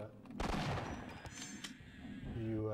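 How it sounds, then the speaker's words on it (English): A machine gun firing in Half-Life: Opposing Force, a dense burst of rapid gunfire up front that fades into lighter shots amid other game sounds, with a voice talking over it. "whenever you fire the machine gun"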